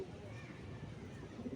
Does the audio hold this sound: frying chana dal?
no